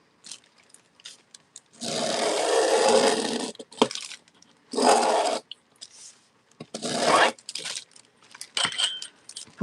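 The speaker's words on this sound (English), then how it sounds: "We'll just cut these up." Decoupage Christmas fabric paper being cut up with scissors, several bursts of rustling, crinkling paper and snipping separated by short quiet pauses, close and fairly loud.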